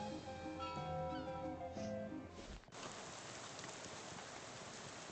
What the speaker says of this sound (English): Why is it only raining here?